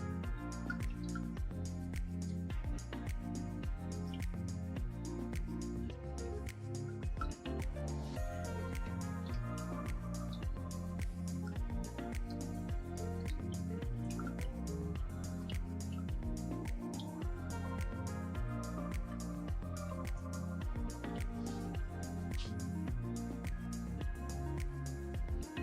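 Ricotta and eggs are whisked together in a bowl, giving a steady, rapid, wet squishing and clicking rhythm that continues close and unbroken.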